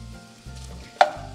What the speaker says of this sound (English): So I'm just gonna cook the sausage